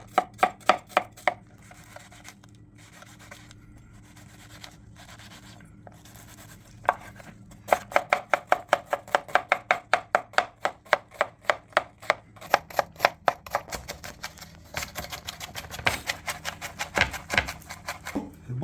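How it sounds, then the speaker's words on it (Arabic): An onion is chopped finely with a knife on a board, a long run of crisp, rapid, evenly spaced cuts that pause briefly and then resume, close and clear with no talking. "ادي بنجيب البصل وهنقطعه عادي، بس هنقطعه ارفع حاجه ممكنه"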